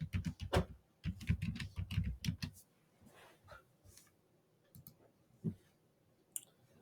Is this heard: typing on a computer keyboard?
yes